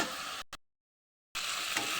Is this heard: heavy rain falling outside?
no